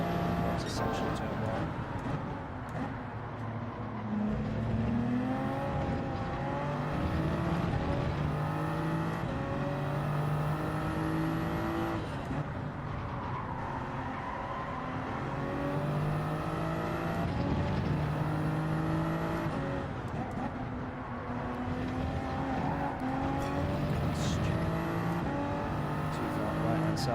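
A race car engine at Monza in Gran Turismo 7 drones and shifts pitch through acceleration and braking, rising and falling steadily over many seconds, with someone talking over it.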